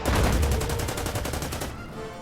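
Panzer IV tank firing in the World War II strategy game Order of Battle, a loud rapid burst of gunfire rattling steadily, then cutting off into a fading tail.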